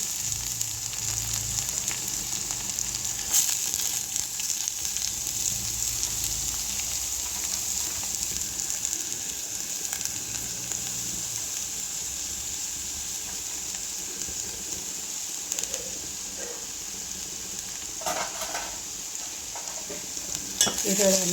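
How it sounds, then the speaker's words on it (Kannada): Onions fry in oil in a pan for betageri chutney, a constant even sizzle with occasional stirring scrapes, moderately loud and steady throughout. "ಈರುಳ್ಳಿಯನ್ನು ಹಾಕಿದ ನಂತರ ಇದು ಗೋಲ್ಡನ್ ಕಲರ್ ಬರೋವರೆಗೂ ನಾವು ಫ್ರೈ ಮಾಡ್ಕೋಬೇಕು"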